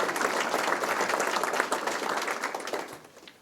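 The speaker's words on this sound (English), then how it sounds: "let's give them a big round of applause as well" An audience at a credit union annual meeting applauds young members, a dense, steady clapping that stays loud for about three seconds before tapering off near the end.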